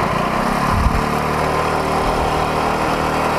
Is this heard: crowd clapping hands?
no